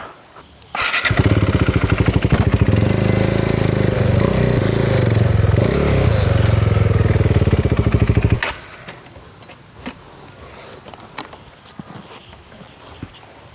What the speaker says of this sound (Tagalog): Then, ipwesto na natin yung motor.